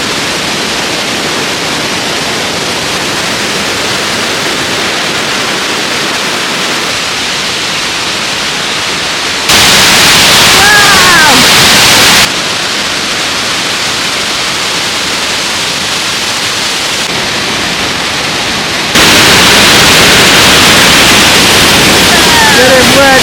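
Waterfall crashing at a Swiss hiking spot, a steady broadband roar throughout, swelling louder in two bursts as the spray comes closer, with faint voices now and then.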